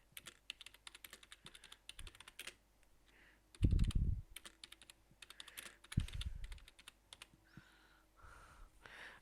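Fingers type on a computer keyboard in quick irregular runs of close, crisp key clicks, broken by a few heavier thumps and short pauses, with no talk.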